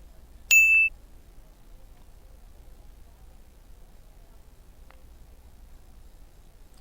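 A single bright bell ding from a phone video editing app sound effect, short and clear, ringing briefly then fading into near silence.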